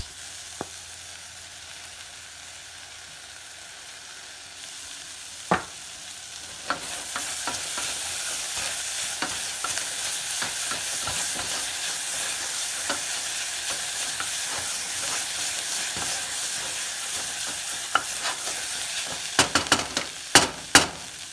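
Mushrooms with thyme and rosemary sizzle steadily in a hot frying pan while a utensil stirs them, with soft scraping and a few sharper clinks near the end, all fairly quiet and without voices.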